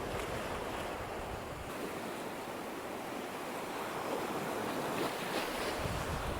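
Sea waves wash around a rocky island at Seaton Sluice with a constant, fairly faint surf roar mixed with wind buffeting the microphone, no talking.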